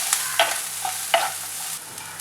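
Onions sauteing in a pan for a hotel-style tomato chutney, with a few soft stirring scrapes and clacks over a steady, quiet frying hiss.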